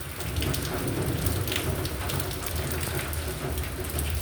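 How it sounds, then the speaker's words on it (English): Steady rain pours outside, a dense, unbroken hiss of drops on surfaces with a low rumbling undertone, loud and close throughout. "And then it started raining, as you saw at the start."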